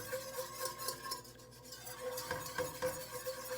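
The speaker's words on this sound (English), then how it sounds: "I'm going to keep whisking this until it turns brown." A whisk scrapes and clinks against a pot while roux is stirred for chicken sauce piquante, soft rhythmic metallic strokes close by over a faint cooking hiss.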